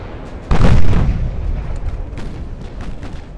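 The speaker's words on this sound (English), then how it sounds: "Look at these broadsides. It's just a wall of guns." Warship broadsides thunder in Ultimate Admiral: Dreadnoughts, a massed line of big naval guns firing together in one loud, deep boom that rolls into a long, dense rumble of overlapping blasts and scattered distant reports.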